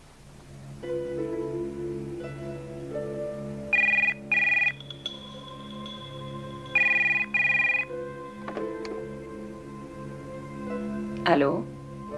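A telephone rings in repeated paired electronic bursts in an indoor scene from the animated series Mission Casse-Cou, heard over steady background music and sounds, with a brief sharp noise near the end.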